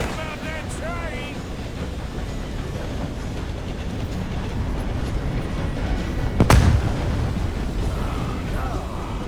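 A train in the video game Red Dead Redemption 2 rumbles steadily with mechanical clatter throughout, punctuated by a sharp loud crack near the middle, while a player's voice talks over it.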